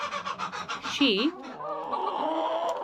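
Backyard chicken coop with several hens, including a silkie and a mille fleur, clucking and squawking close by in short repeated bursts, with one louder, rising call partway through, mixed with a voice talking over them.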